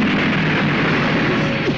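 A remote-control bomb blasts a flower vase in a Bangla action film scene, heard as a loud, sustained, roaring explosion that fills the whole moment without pause.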